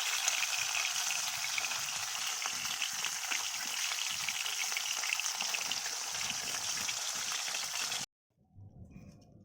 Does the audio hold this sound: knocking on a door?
no